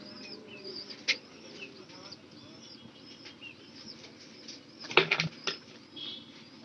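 Pigeons in a coop, wings flapping in sharp bursts with soft cooing and faint calls in between, fairly quiet and close.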